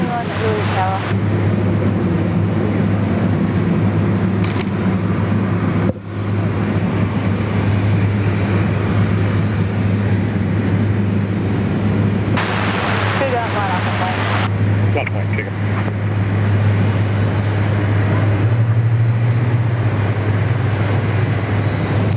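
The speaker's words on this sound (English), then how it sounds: "right now E7A Wedgetail from number 2 Squadron, also based here in Williamtown" An E-7A Wedgetail from No. 2 Squadron departs RAAF Williamtown, a steady loud drone of engine noise sustained throughout, with a voice speaking over it at times.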